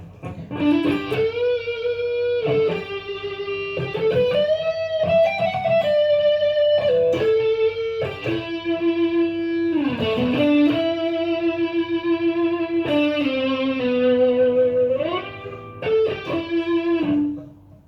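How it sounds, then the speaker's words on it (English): An overdriven electric guitar on its neck pickup, through a boosted vintage Marshall amp, plays a melodic lead line with sustained, bending notes and a crunchy tone, loud and alone. "this is going to be a vintage Marshall with a bit of a boost, neck pickup to begin with"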